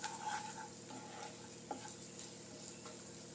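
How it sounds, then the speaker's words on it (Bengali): Onion paste and ground spices fry in a pan for a lentil dish, giving a soft, continuous sizzle with faint scraping stirs and an occasional light tap of a spoon. "আমি এই পেঁয়াজের মশলাটা, সমস্ত গুঁড়ো মশলাটা দিয়ে পুরোটা ভেজে নেব বা কষে নেব খানিকক্ষণ ধরে"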